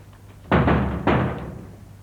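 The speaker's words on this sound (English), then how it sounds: "Someone at the door." Two heavy knocks land on a door about half a second apart, loud and close with a boomy thud, in a domestic TV drama setting with no talk over them.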